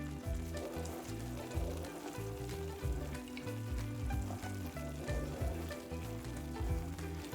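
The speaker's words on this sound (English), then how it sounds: "So I'm going to go ahead and stir." Butter toffee candy with pecans being stirred in a pot, a soft bubbling sizzle with regular low scraping strokes of the spoon, quiet and continuous.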